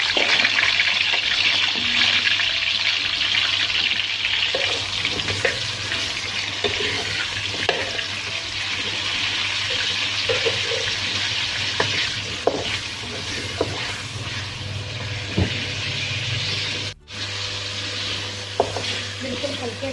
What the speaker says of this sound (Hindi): ये जिस ऑयल में मैंने प्याज ब्राउन किए थे उसी ऑयल में मैं पोर्क भी फ्राई